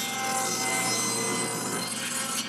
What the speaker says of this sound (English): I'll start off by cutting my block to 1 5/8.